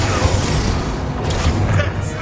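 A Bombarda explosion spell in Hogwarts Legacy, a heavy continuous rumbling blast with thuds and crashing debris, loud and close throughout the short moment.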